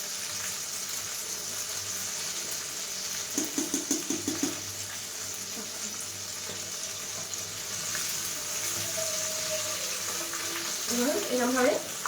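Garlic mushrooms frying in oil, a steady close sizzle with short bursts of stirring clatter partway through and a brief tap-water run near the end; no talk.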